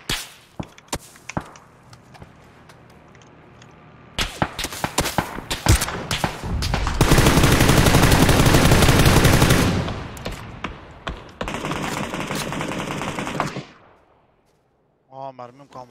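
PUBG gunfire, with rapid bursts of machine-gun fire and single shots, including a long loud sustained burst and a second dense burst, while players talk over the shooting.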